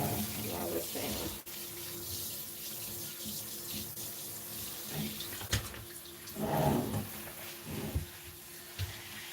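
Tap water runs into a plant as it is watered, a steady, close splashing flow with changing gurgles and a few brief knocks.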